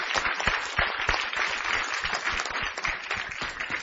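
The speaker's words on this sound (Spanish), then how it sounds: "Give a strong applause to the Lord." Strong, close applause from a church congregation during a bilingual service, many hands clapping in a dense, energetic burst that stays loud throughout.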